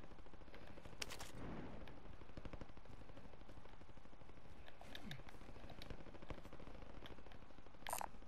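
Gunfire in Call of Duty: Modern Warfare comes as scattered automatic bursts and single shots, mostly distant and fairly faint against steady background noise, with a louder crack near the start and the end.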